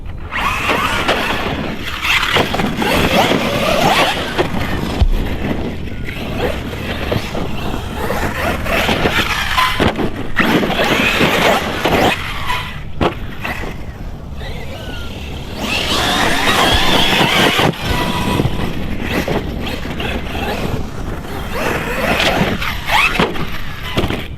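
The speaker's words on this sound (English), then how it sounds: "So I'm going to show you how the truck performs now." An ARRMA Nero 6S BLX RC monster truck running on a 6S LiPo battery, its loud electric motor whining and surging in bursts, with rough bashing and rattling noises along the way.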